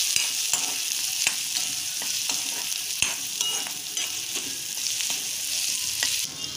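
Tender okra roasts and sizzles in a kadhai with turmeric and spices, a steady close crackle broken by repeated sharp scrapes and taps of a stirring utensil against the pan, with no one speaking.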